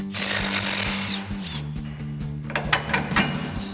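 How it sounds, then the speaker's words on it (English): An impact wrench with an 18 millimeter socket hammers a shock's bottom mounting bolt loose on a Ford F-250 during a leveling kit install, a steady close buzzing run followed by a few sharp bursts, with no speech. "we'll get in there with an 18 millimeter socket on our impact and a 21 millimeter wrench and get that off."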